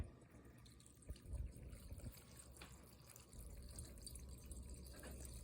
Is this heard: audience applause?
no